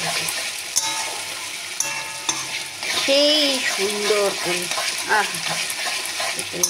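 Onion, garlic, tomato, green chili and ginger sizzle in a pan as a spoon stirs them, scraping in short bursts over constant frying with a few soft spoken words.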